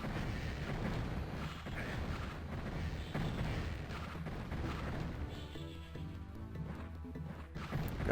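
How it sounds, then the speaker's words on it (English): Gargoyles firing at the player in the fantasy shooter Heretic, producing a constant clatter of impacts, crashes and booms layered over busy game noise. "Oh, that's a lot of gargoyles shooting at me there."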